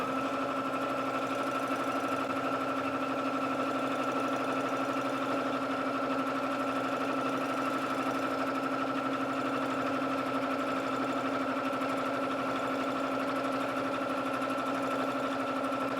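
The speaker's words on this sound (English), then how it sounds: "I'll tap the start button here on my SureStitch Elite, and then simply start moving the machine." A SureStitch Elite quilting machine on a Cutie Breeze frame stitches at a steady, fast mechanical rhythm, with a constant hum and a rapid needle chatter running evenly throughout.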